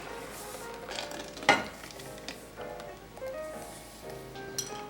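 Blended canned tomatoes go into a hot pan for lasagne and are stirred, with a faint sizzle, a sharp clink near the start and soft scraping, quiet and close.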